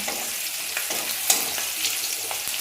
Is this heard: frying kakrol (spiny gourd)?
yes